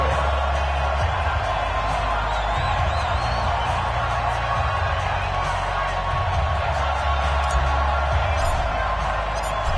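A packed NFL stadium crowd before a Week 13 Steelers vs Colts game roars in a steady, dense wall of cheering and whooping, loud throughout with low rumble underneath and no pauses.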